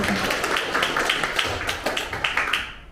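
Applause from an audience welcoming a speaker at a campaign committee dissolution ceremony in Incheon, steady clapping with sharper taps throughout, moderately loud and alone.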